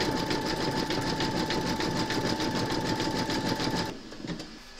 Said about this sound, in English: pop your hoop into your machine and stitch round number 15, and that's going to zigzag up here